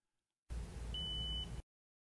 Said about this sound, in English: Press and hold a channel preset button until a beep sounds.